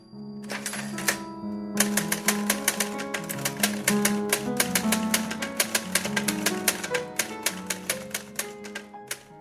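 Typewriter keys clacking in a government office, a fast irregular run of sharp mechanical strikes with occasional bell-like ring, close and continuous throughout.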